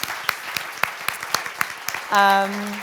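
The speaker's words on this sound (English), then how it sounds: "So let's give them a big round of applause." Scattered, steady clapping from a small audience at a diversity and entrepreneurship summit, applauding the women panelists, then a sustained humming tone takes over near the end.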